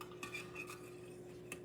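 A utensil stirs red Jell-O mixture in a bowl, producing a few faint, light scraping clinks at irregular moments in a quiet room.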